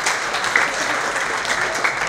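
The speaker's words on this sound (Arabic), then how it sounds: "صفقوا يستاهلوا" An audience applauds at a military graduation ceremony for a lieutenant, dense sustained clapping from a crowd that stays steady and fairly loud throughout.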